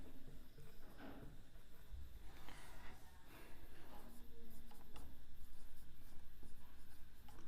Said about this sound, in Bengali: তাহলে লিখে দিচ্ছি।